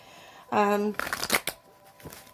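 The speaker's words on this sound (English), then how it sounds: "One more shuffle, and then I'll cut the deck." A deck of tarot cards is shuffled in a quick, crisp riffle that flutters loudly for about half a second, then softer papery slaps and taps follow alone.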